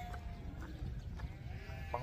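Goats bleat on a farm in Anseong, South Korea, a few short close calls rising over steady low rumble and background noise.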